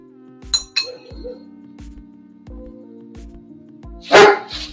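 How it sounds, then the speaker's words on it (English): A dog barks several times outdoors, the sharp barks clear over a steady, regularly pulsing mechanical hum from a 3D printer at a pop-up maker event. "It sounded like an outside dog."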